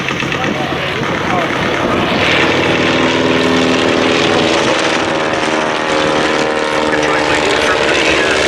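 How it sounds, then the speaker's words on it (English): A First World War British SE-5A and German Dreidecker triplane fly at a Duxford air show, their propeller engines roaring in a loud, steady, close drone that fills the whole stretch. "here come those British and German aeroplanes about to engage the other SE-5A"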